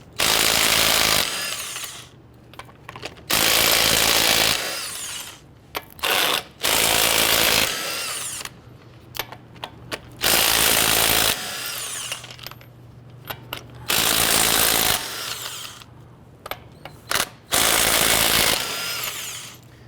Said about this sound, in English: Using a 22mm socket, go ahead and loosen and remove all of your lug nuts.